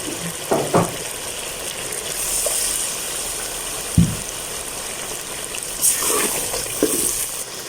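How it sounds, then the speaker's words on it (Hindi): Fried chicken masala for a black pepper chicken korma sizzles in the pan as a little water is added, a steady close frying hiss with a few sharper spits and bursts, no talking. "इसको थोड़ा सा मामूली से पानी लगाते हैं ताकि जो मसाला जो है ना अच्छी तरह गल जाए"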